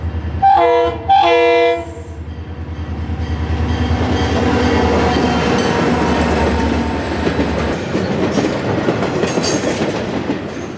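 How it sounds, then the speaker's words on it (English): An FEC freight port train of international containers, running from Hialeah Yard to Dodge Island near Miami, sounds two loud horn blasts up close, then rumbles steadily past with rail clatter before fading toward the end. "the FDC dispatcher lined the FEC port train, a short-haul land bridge of international containers from Hialeah Yard to Dodge Island"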